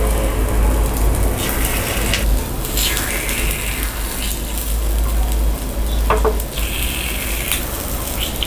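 Karupatti paniyaram, sweet palm-jaggery dumplings, sizzle steadily in a pan after being flipped, with a continuous hiss over a low hum and a few faint clinks.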